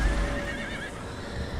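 A horse neighs in the video game Conan Exiles, a clear whinny rising and wavering over steady low background ambience, with faint hoof clip-clop beneath and no talking.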